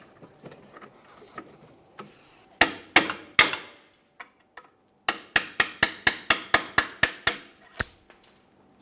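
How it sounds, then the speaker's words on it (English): Hammer blows on a punch knock a mounting bolt out of the rear suspension of a 2005-2010 Chrysler 300 during a coil spring replacement: three hard metallic strikes, a short pause, then a quick run of about ten evenly spaced blows, loud and close. "Use a hammer and punch if necessary."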